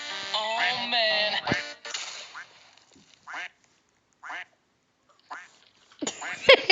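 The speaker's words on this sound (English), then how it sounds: "The quack of the duck killed me." A cartoonish duck quacks in a video game, with several short nasal quacks spaced apart and a longer honking burst at the start, alongside a speaking voice.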